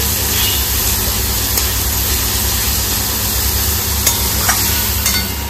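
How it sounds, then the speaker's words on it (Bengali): Onion and garlic frying together in oil for pav bhaji, a loud dense hiss of sizzling with faint stirring clicks, steady throughout and close up. "এখন পেঁয়াজ আর রসুনটা একসাথে একটু ভাজা ভাজা করব"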